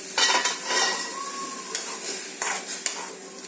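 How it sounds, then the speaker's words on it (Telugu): A spoon stirs chicken boiling in salted water in a pot for gongura chicken, with close scraping and clinking strokes over a soft simmering sizzle. "మధ్యలో ఒకసారి మూత తీసి కలుపుకుందాం"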